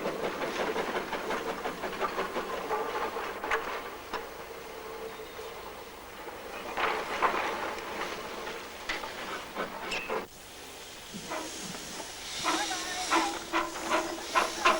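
A steam locomotive shunting on a Cornish freight line lets off hissing steam in broadband bursts, with clanking and rail noise through the stretch and a louder, busier spell toward the end.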